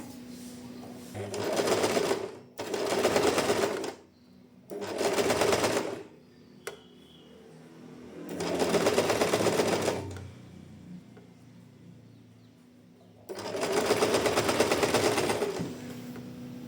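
A sewing machine stitches folded elastic around a swimsuit edge in five separate runs, each a few seconds of close, steady buzzing hum, with quiet pauses between.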